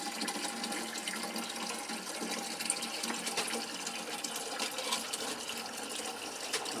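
Water pouring steadily into the reservoir of an orchid greenhouse watering system, a continuous broadband rush and gurgle of filling liquid at moderate loudness with no voices.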